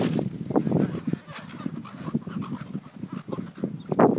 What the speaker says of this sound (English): Just got an army of seagull.